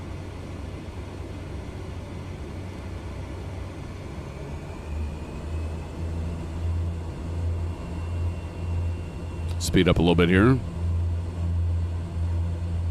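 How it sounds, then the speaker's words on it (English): The iniBuilds F406 Caravan II twin-engine plane in Microsoft Flight Simulator gives a steady, low droning engine rumble that runs throughout, with someone talking over it. "the sounds of this plane are great"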